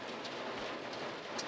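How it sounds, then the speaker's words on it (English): Hard rain falls during spring planting on a farm, a soft but constant hiss of drops on surfaces with faint heavier patters scattered through, steady from start to finish. "So, the hard rain should be past here just a minute."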